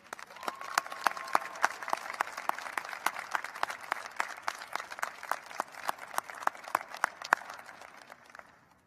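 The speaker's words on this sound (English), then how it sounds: "Candidates, how about a round of applause for your support teams?" Graduating business-school candidates at a winter convocation clap for their family and friends, sparse individual claps ringing out over a steady crowd patter for about nine seconds.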